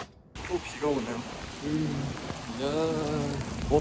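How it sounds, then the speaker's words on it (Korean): Steady rain pours down on a wet night during exam season, a continuous hiss under a person talking close by. "또 비가 오네요"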